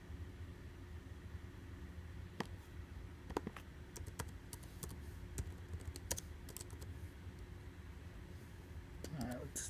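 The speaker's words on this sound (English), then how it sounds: "let's type" Fingers tap on a computer keyboard late at night, a faint patter of irregular, sharp clicks scattered over a steady low background hum.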